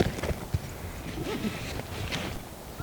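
Mountain goats scramble up a rocky slope, a scatter of irregular hoof clicks and knocks against stone, moderately near, over wind and soft outdoor background, with a voice briefly in the mix.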